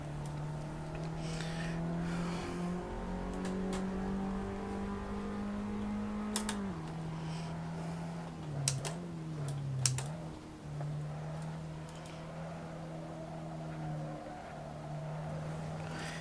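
A low-powered car races in a multiplayer video game, its engine a steady droning whine that rises and dips in pitch, with a few sharp clicks and brief tire noises along the way and no talking.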